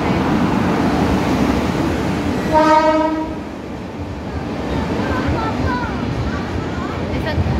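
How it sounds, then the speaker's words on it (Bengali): A train rumbles past with a steady roar, and a horn blares briefly partway through; a voice speaks faintly near the end. "কত বড় ট্রেন।"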